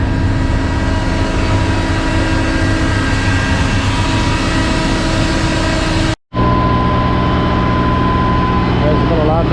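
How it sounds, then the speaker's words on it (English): A Scania truck's donkey engine drones steadily and loudly at low idle throughout, with a brief cut to silence partway through before the rumble resumes. "He's a bit louder, running the donkey engine."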